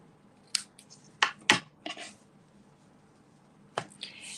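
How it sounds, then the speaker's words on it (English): Several short, crisp scissor snips trim the paper ends of a bound card, coming close and in uneven bursts with quiet gaps between. "So now I'm going to trim my ends."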